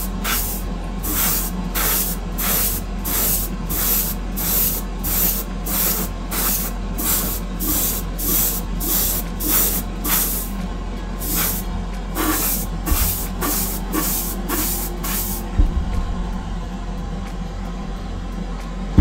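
An airbrush sprays primer into the handles of Greek-style vases, giving repeated short hissing bursts in a steady rhythm over a low continuous hum, loud and close, with no talking.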